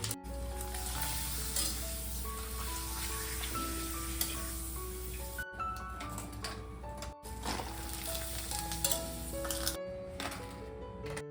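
Papad sizzles as it fries in hot oil in a home kitchen, a steady dense crackling hiss that runs throughout under a constant hum, with a few brief gaps.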